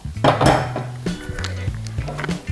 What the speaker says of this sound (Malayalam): അധികം പൊടിയാതെ വേണം ഇളക്കി കൊടുക്കാൻ.